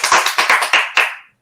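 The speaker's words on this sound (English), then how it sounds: "where's the applause?" Several sharp, loud hand claps, about half a dozen in quick succession from just a few people, end abruptly after about a second.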